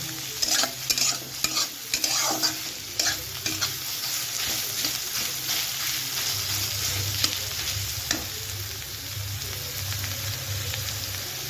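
Carrot and beetroot pieces fry in hot oil with a steady sizzle, while a utensil stirs and scrapes them around the pan in bursts of close clatter throughout.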